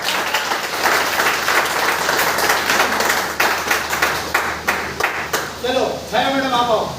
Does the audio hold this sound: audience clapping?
yes